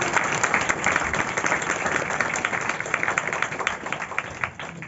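A congregation at a Christmas celebration sermon claps steadily, a dense wash of many hands applauding together, loud and even throughout with no talk over it.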